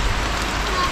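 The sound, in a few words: heavy rain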